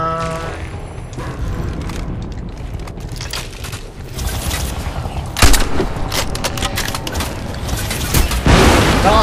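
Combat in the video game Crysis 2, with sustained gunfire and booming impacts under a thick layer of game noise and music, growing louder with sharp blasts near the middle and the end.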